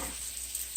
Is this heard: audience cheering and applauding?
no